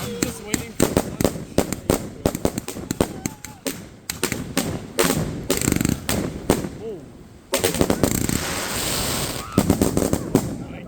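Fourth of July fireworks going off in dense, rapid bursts of crackling and sharp bangs, loud and close, with a few heavier booms, while a person talks intermittently.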